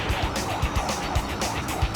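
A fleeing car speeds down a Missouri highway during a police chase, its steady road roar pulsing with repeated low thumps as it races along, no voices present.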